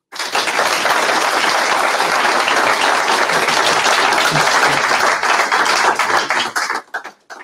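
An audience at a live event breaks into loud, dense applause that holds steady for several seconds, then tapers off quickly.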